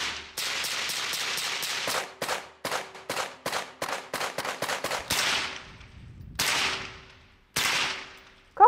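Rapid gunshots from a Saiga-9 rifle fired while gripped with a hand stopper, a fast string of sharp close cracks followed by slower separate single shots, with no talking.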